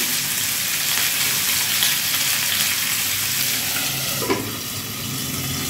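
Fish fries in a covered pan, giving a steady, dense sizzle that stays close and even throughout, with one brief clink near the end.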